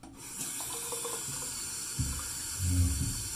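Tap water runs into a shaving brush mug, a steady close splashing hiss from the faucet, with the pitch of the pour deepening into a fuller, lower gurgle as the mug fills toward the end.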